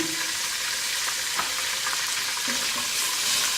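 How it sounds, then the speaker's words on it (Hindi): Cumin, bay leaf, chilli and cloves crackle and sizzle in hot butter for dal makhani, a close, steady frying hiss with a few small pops and spoon scrapes. "मक्खन गर्म हो गया, इसमें मैं शामिल कर रही हूँ जीरा, तेज पत्ता, मिर्चा, लौंग।"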